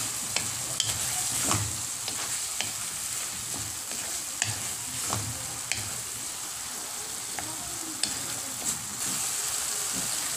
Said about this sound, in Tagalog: So, gisa-gisa lang guys hanggang sa lumambot na ang ating